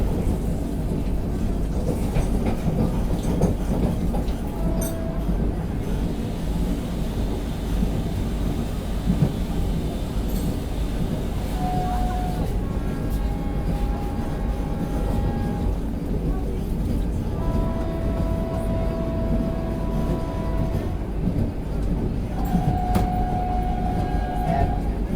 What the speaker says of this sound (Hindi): अभी अपनी ट्रेन पहुंच रही है काजीकुंड रेलवे स्टेशन स्किप करने